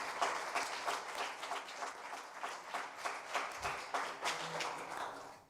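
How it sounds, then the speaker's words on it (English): Participants at the closing session of a WHO e-health conference clap for the participants, organizers and speakers. The applause is moderately quiet and uneven, with distinct individual claps standing out in a loose, sustained patter. "Why don't we give an applause to all the participants"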